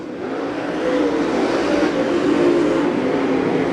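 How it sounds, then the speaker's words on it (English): Non-wing sprint race cars roar around the Farmer City Raceway dirt speedway during a heat race, a loud steady engine drone that swells slightly as the pack passes close by, with no talk over it. "Warrior race car versus Bob Pierce race cars."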